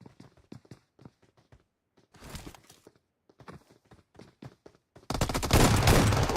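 Gunfire in a PUBG Mobile match at a pro tournament: bursts of sharp, rapid shots in quick clusters, separated by short gaps, ending in a loud, sustained roar of dense firing.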